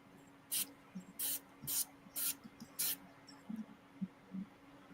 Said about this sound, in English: Look at the control on your airbrush you got there.